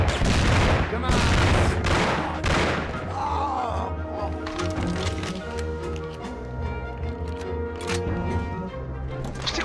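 Loud machine gun bursts rattle in the Mafia video game, with heavy rapid volleys in the first few seconds. Scattered shots and impacts follow at lower intensity.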